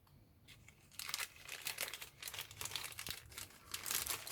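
Plastic packaging bag from an HK Models 1/48 B-17G Flying Fortress kit crinkling and rustling up close, in a quick irregular series of crackles that start softly and grow busier.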